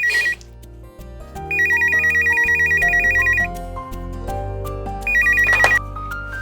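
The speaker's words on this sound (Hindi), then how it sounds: "अच्छा, मैं फोन देख कर आती हूँ।" A melodic ringtone plays with bright repeating electronic beeps in bursts, a short one, a long one, then another, loud and clear with no talking.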